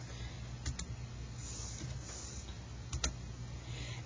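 Light plastic clicks of keys pressed on a graphing calculator keypad, a few faint close taps spread over a quiet hum, with a brief cluster of two sharper presses near the end.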